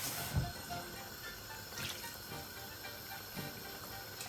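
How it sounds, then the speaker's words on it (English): Hot water, with a little leftover tomato juice in it, poured into a pan of eggplant pieces for imam bayildi; a soft, steady trickle and splash, quiet and close, with no talking. "And put some water,"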